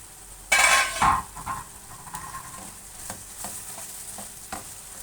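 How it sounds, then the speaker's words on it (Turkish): Minced meat for gözleme filling sizzles and crackles in a hot pan, with a loud burst of stirring scrapes near the start, then steady frying with occasional utensil clicks. "Şimdi kıymamız kavruldu."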